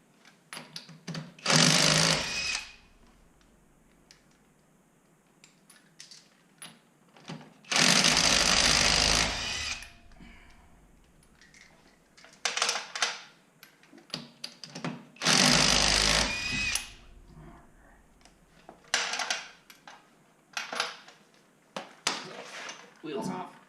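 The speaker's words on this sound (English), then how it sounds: "I'll get these lug nuts off real quick" Power tool spinning off lug nuts from the wheel of a 2017 Ford Fiesta ST, loud close bursts of a few seconds each, three main runs with shorter ones between and quiet pauses between them.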